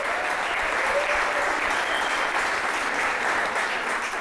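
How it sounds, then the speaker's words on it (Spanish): Sustained, dense applause from a church congregation for a prize winner, a steady wash of many hands clapping at a fairly even level throughout, with no clear voices over it. "Recibamos con un fuerte aplauso a Feli."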